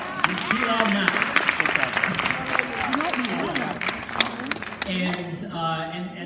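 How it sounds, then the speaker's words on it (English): Kids at a 2019 kickoff closing session give themselves a round of applause, lively crowd clapping mixed with shouts and voices, continuous and fairly loud throughout. "give yourself a round of applause"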